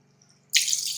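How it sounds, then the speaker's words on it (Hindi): Two glasses of water are poured into a steel pan holding meat. The pour starts abruptly and runs as a bright, close splashing stream after a brief quiet. "मैं इसमें डालूंगी 2 गिलास पानी।"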